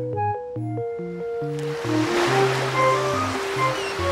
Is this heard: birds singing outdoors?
no